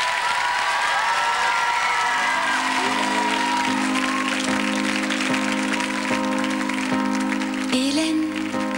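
Studio audience applauding a singer at a French TV variety show, a dense steady wash of clapping with some cheering, while her song's music starts underneath partway through.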